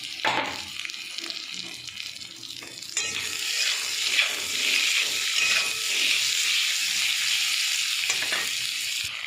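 Potato pieces fry in hot oil with salt and radhuni seeds, a close, steady sizzling hiss that grows louder partway through when stirred, with occasional spatters and no talking.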